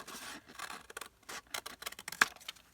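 Scissors snip through paper embellishments in short, quick cuts, with a soft scraping rhythm of small strokes up close and quiet, no voices.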